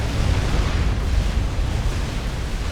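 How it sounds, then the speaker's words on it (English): A volatility explosion in Supreme Commander bursts as a dense, steady roar of rumbling noise, loud and continuous with heavy low-end weight, no voices over it. "Collateral damage as well from the volatility explosion"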